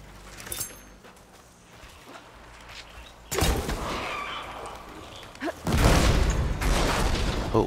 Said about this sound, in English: Oh man, that was a hell of an explosion,